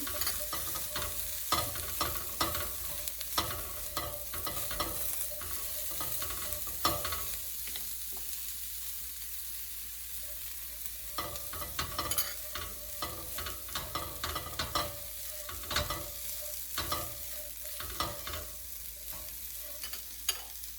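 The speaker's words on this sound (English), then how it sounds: "we'll keep frying it till it turns nice and crispy and done" Broccoli coated in gram flour, rice flour and spices sizzles steadily in hot oil, a continuous crackling fry broken by frequent scraping stirs and clicks of a utensil against the pan.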